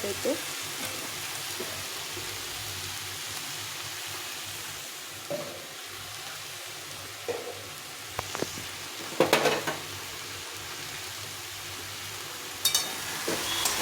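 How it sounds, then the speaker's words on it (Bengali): Cumin seeds and cumin powder frying for a cabbage curry, a steady soft sizzle with occasional stirring clatters of a spatula against the pan, close by. "ভালো করে কষিয়ে নিতে হবে গুঁড়োটা যেন সব জায়গায় মিশে যায়"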